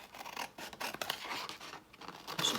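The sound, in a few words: big scissors cutting paper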